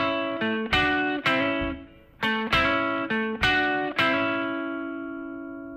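An electric guitar phrase of plucked, harmonically rich notes runs through effects and distortion, played twice in succession with a short pause between passes; the last note rings out and decays slowly, with no talking.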